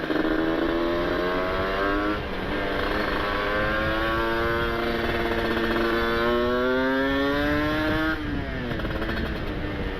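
A two-stroke motorcycle engine braking on a downshift gives a steady, loud, buzzy drone whose pitch slowly climbs, breaks off near the end and resumes lower, heard up close with no talking.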